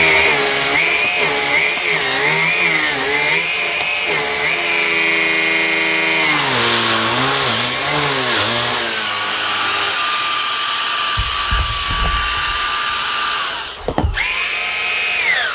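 A Henry Quick vacuum cleaner runs over a carpet sample, a loud whining motor with a pitch that wavers and shifts as the head is pushed, then strains and cuts out briefly near the end.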